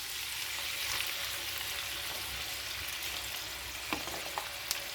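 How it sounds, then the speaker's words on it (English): Ginger garlic paste fries steadily in hot vegetable oil for a spicy mutton karahi, a continuous close sizzle with faint crackles and a few brief clinks near the end. "so we'll just fry this for a little while"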